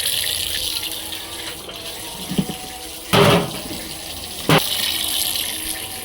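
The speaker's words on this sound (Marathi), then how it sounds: "नळाला पाणी आलंय मी आपली पाणी भरते" Water runs steadily from a household tap as containers are filled, a continuous close gush with a couple of brief louder splashes partway through.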